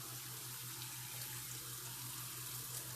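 Steady running water pours off tomato seeds and gunk in a sink, a continuous close splashing rush with a low hum underneath.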